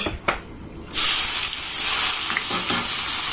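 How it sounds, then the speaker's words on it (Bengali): Loud, steady sizzling of onions frying in a hot pan, a continuous crackling hiss that jumps up after a brief quieter moment. "পেঁয়াজটা প্রায় ভাজা হয়ে গেছে"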